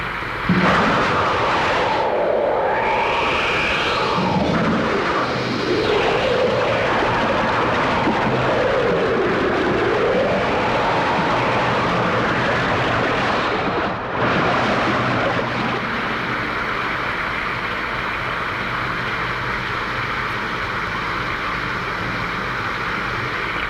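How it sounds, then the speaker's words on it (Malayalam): Heavy rain pours steadily in a dramatic film scene, with a deep rumble of thunder rolling through early on and a dense, continuous wash of downpour that stays loud to the end. "അയ്യോ, എന്തൊരു ഇടിയും മഴയും"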